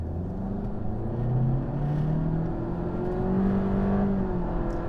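A 2022 Honda Civic Touring accelerates in sport mode, heard from the cabin as a steady engine drone that rises in pitch and swells twice, with no talking.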